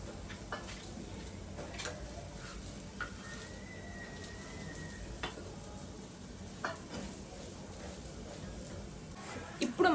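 Carrot curry frying in a pan gives a low, steady sizzle with occasional spatula scrapes and taps. It is fairly quiet and close, and there is no talking.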